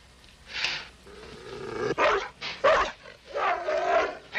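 Doberman dogs growl and snarl in close, rough bursts that rise and fall across several seconds, with short gaps between the throaty outbursts.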